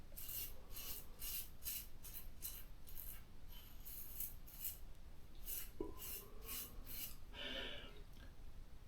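A safety razor with an oddly seated, protruding blade scraping across skin during a wet shave, giving soft, quiet, rhythmic strokes repeated steadily and heard close up without talking.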